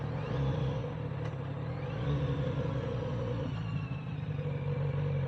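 Steady engine drone from a 2024 Kawasaki Z900RS motorcycle ridden at low speed in a low gear, with slight surging from a snatchy, jerky throttle over a continuous rumble, no talking.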